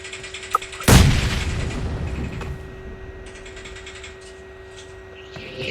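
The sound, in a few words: bomb explosions in a video game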